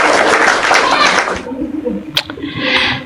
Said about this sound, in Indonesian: Kak Rosi, tepuk tangan dulu.